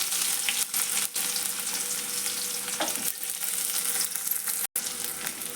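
Onions and curry leaves with mustard seeds frying in hot oil for a North Karnataka beans palya, a steady close sizzle with a few stirring scrapes and one brief dropout, no talking.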